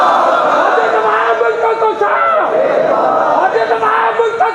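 Large crowd at a Friday religious sermon shouting the Islamic slogan Allahu Akbar in unison, a loud continuous roar of many voices close by.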